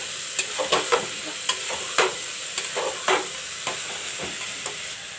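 Dal being stirred in a hot pan while cooking breakfast sambar, with a steady close sizzle broken by repeated scraping stirs of the spoon, about a dozen clicks and scrapes over a few seconds.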